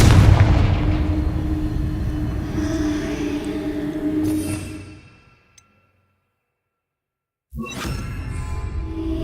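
In Hogwarts Legacy, a Confringo spell explodes with a heavy, rumbling boom that rolls on for several seconds. It fades to silence, then another loud blast cuts in.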